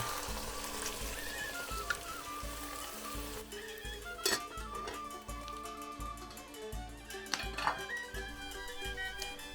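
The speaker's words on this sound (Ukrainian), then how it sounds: "Обсмажую 5 хвилин, постійно помішуючи" Quiet, continuous sizzle of pork frying for kulish, with faint scraping of a utensil in a pan and a few light clinks, fairly distant and low in level.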